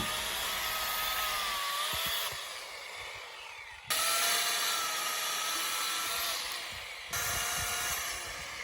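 A heavy saw of about 4.5 kg, held in one hand, cuts through a thick tree branch. It makes a close, continuous rasping buzz in three long surges separated by brief breaks, with no talk.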